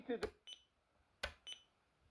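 An alarm clock buzzer in alarm mode, pulled from an electronics waste bin, gives faint, brief beeps in two pairs about a second apart, with a quiet voice at the start.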